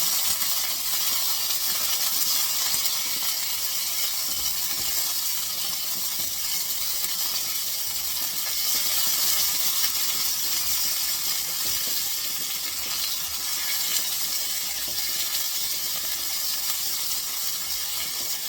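Onions sizzle in hot oil for a Ghanaian stew, giving a steady, even hiss that carries on without a break and with no talk over it.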